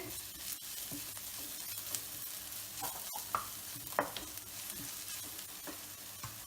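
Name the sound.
onion, shallots, ginger and garlic sautéing in a pan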